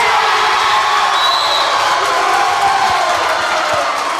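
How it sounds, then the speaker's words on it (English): A packed gym crowd at a high school volleyball match between Somerset and Pulaski County cheers loudly, a dense, continuous roar of voices and whoops filling the whole four seconds. "Loud crowd here tonight."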